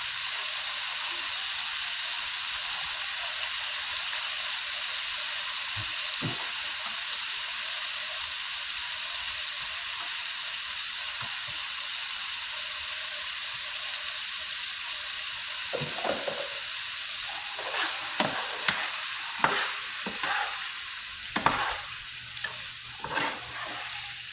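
Plantain slices fry in a pan for a Jamaican breakfast, a steady bright sizzle close by that grows busier in the second half with crackling spatters and scraping stirs, and no voices.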